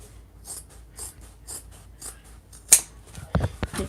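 Scissors snip through fabric while trimming a sewn pocket, a run of quiet, evenly spaced cuts followed by a sharper snip and a few louder clicks near the end.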